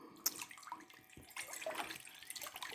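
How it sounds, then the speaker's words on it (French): Water being poured into a craft container, a steady, quiet splashing and trickling stream that keeps running through the whole moment. "Je mets de l'eau dans mon récipient."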